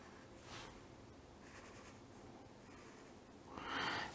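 Pen or marker strokes while drawing a double acting cylinder diagram for a pneumatics lesson, soft scratchy strokes in a few short passes, faint and close.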